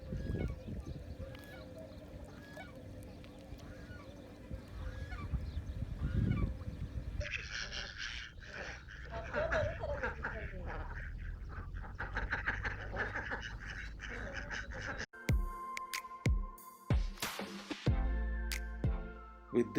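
Geese honking with other fowl calls at Love Lake in Dubai, a man-made lake with waterbirds and fish; repeated honks rise and fall across the scene, mixed with outdoor ambience and a sudden shift in noise near the end.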